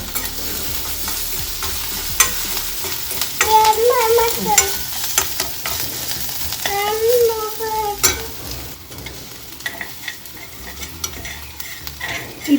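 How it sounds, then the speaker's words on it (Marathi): Garlic sizzles in hot oil while a utensil stirs and scrapes against the pan, with short clatters and a steady frying hiss throughout. "आता आपण हे तेलावर परतणार आहोत फोडणी वगैरे अजिबात घालायची नाही आहे हे फक्त आपल्याला तेलात परतून घ्यायचं आहे"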